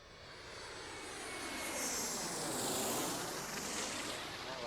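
Chopper 13, a news helicopter, drones steadily overhead with a broad, loud engine and rotor roar that swells slightly toward the middle and stays continuous throughout, with no talking.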